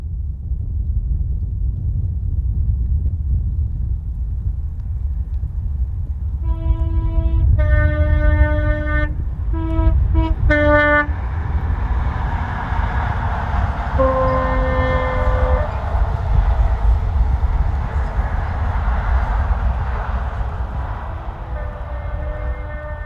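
A British Rail InterCity 125 high speed train on the East Coast Main Line rumbles loudly past, sounding several sharp two-tone horn blasts midway, followed by a sustained roar of the passing train as it fades.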